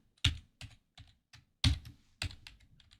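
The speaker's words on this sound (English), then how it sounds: "type that password that you've entered in again" Keystrokes on a computer keyboard while a password is entered to set up a security camera recorder, about eight or nine distinct clicks in an irregular rhythm with a few louder presses, close and alone with no talking.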